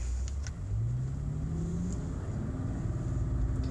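A 2006 Bentley Continental Flying Spur pulls away, its engine rising smoothly through a couple of gentle upshifts in a steady, moderate rumble heard from inside the car, with no talking.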